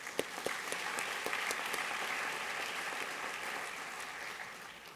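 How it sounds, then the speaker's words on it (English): Audience applause at a public-agency awards ceremony greeting the nominees for a Public Stakeholder Award, a steady wash of clapping with a few sharp individual claps standing out early, sustained evenly and tapering slightly at the end. "Got a round of applause for those folks"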